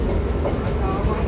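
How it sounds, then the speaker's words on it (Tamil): A Chennai circular suburban train runs between Egmore and Central, giving a steady, loud rumble of wheels on the rails with a faint clickety-clack throughout and no break. "நம்ம circular train Chennai Egmore to Chennai central"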